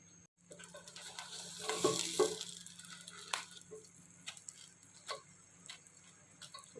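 A Noakhali-style morich khola simmers in a covered nonstick pan, giving a soft, steady sizzle with occasional ticks and light clinks over a faint constant hum.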